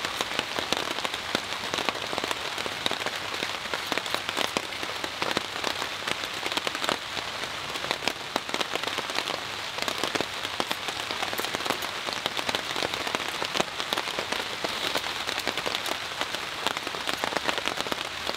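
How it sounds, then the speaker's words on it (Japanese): Heavy nighttime rain pours steadily in a bushcraft camp in the woods, a dense, even hiss of drops pattering on surfaces with no letup and no voices. "夜になって雨足が強くなってきましたね。"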